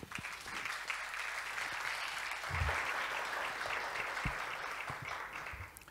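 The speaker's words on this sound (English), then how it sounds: "Let's give them a round of applause, please." Sustained audience applause after a mid-year budget speech event, a steady dense wash of clapping holding for several seconds with a few louder individual claps standing out.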